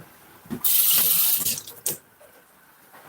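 Running tap water splashes over lettuce being washed in a kitchen sink. A close, hissing gush lasts about a second, a shorter burst follows, and then it quietens.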